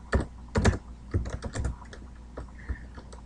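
Quick bursts of keystrokes on a computer keyboard, close and crisp, in uneven clusters with brief pauses between, over a low steady background hum.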